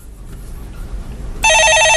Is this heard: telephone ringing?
yes